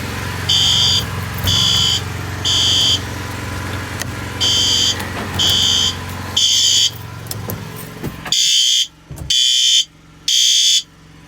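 A building fire alarm sounds during a scheduled systems test, with loud, shrill electronic bursts repeating in an even on-off rhythm about eight times, nearby and clear over a low rumble of passing traffic.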